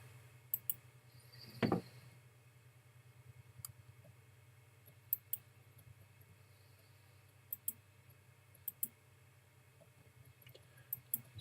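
Sparse, faint computer mouse clicks while drawing in Photoshop, single isolated ticks at irregular intervals over a low steady hum, with one brief louder clatter.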